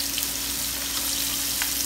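Fish frying in a pan on a stove turned up to high heat, a steady dense sizzle that holds evenly throughout with no talk over it.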